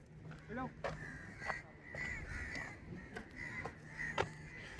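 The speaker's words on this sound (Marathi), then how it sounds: "कावळे तेच खात आहेत." Crows caw repeatedly among the jujube trees inside Suvarnadurga sea fort, a string of harsh, moderately close calls with someone speaking over them.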